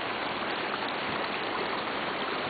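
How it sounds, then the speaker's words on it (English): Steady, loud rush of stream water filling the whole moment, heard up close while wading across a river, with no voices over it. "just going to walk across the river now"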